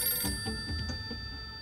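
Telephone bell ringing in an indoor drama scene, a steady electronic ring with bright sustained tones, moderately faint and heard alone without talk.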